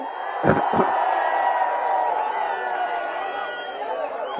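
Political rally crowd at a TDP party gathering in Gurazala, Palnadu district, answering with a loud, continuous roar of shouting and cheering, a couple of sharp bursts near the start, sustained throughout.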